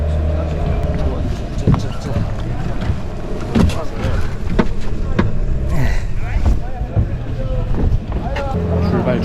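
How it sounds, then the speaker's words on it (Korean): Boat motor droning steadily during a crossing over water to an emerald cave, mixed with wind buffeting the microphone, with people talking intermittently over the noise. "배를 타고 건너가야 되나봐요"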